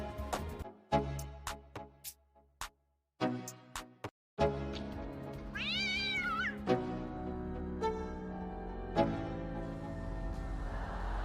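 A cat meows repeatedly, several loud, close calls in irregular bursts with brief silent gaps, one rising drawn-out wail in the middle, and no talk.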